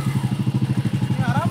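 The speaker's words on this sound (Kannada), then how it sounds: "ನೋಡಿ ಬೈಕಲ್ಲಿ ಬರೋಕ್ಕೆ ಎಷ್ಟು ಕಷ್ಟ ಪಡ್ತಾ ಇದ್ದಾರೆ." Motorcycle engine labouring on a rough road, a close, loud, rapid pulsing putter that stays steady across the short moment.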